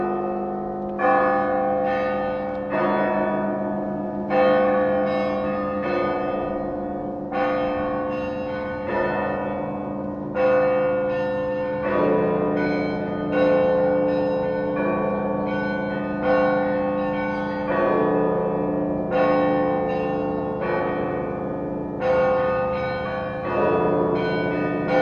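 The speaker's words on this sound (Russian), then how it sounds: "И сейчас он на колоколах, вы услышите, в его исполнении «Невский звон»." Church bells rung by a skilled bell-ringer at a bell-ringing festival, playing the Nevsky Zvon peal: repeated rhythmic chimes of several bells, loud and resonant with long ringing decays, heard alone.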